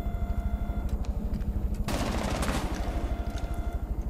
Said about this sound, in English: There's a lot of shooting going on and I can't tell where from.